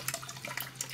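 Water runs from a tap into a washing machine during off-grid laundry, a brief steady splashing gush with a low hum beneath it.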